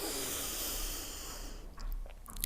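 A long, breathy inhale during a breathing exercise, heard close as a steady airy hiss that fades after about a second and a half, with a little soft rustling after it.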